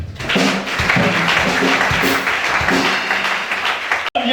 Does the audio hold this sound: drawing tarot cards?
no